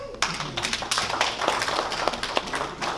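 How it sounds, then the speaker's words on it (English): Clapping from an audience at a convention session in the Niger Delta, a patchy burst of hand claps that starts abruptly and keeps going at moderate loudness, with scattered sharp claps standing out. "Hands of applause."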